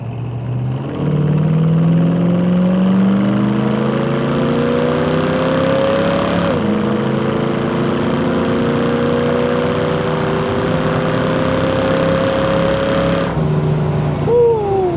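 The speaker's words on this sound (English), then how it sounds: "This car has a fantastic exhaust note, and man, does it pull." A car engine pulls hard through rising gears, its exhaust note climbing in pitch with each shift, loud and steady throughout.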